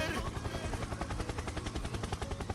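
A rapid, even chopping pulse thumps steadily throughout, like helicopter blades beating nearby, with no break in the rhythm.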